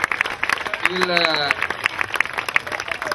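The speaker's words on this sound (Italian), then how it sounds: "un altro bel applauso sempre per il Caravaggio che ha vinto" An audience claps and cheers at a youth football tournament prize ceremony, a dense steady patter of applause under a loud announcer's voice on a microphone.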